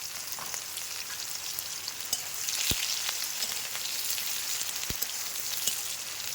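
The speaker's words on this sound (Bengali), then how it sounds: "এখানে বড় সাইজে 2টো পেঁয়াজ কেটে নিয়েছি, এটা এখন ভেজে নেব" Two large sliced onions frying in hot oil in a pan with whole garam masala and cumin, a steady bright sizzle with a few sharp crackles and pops, close up and with no voices.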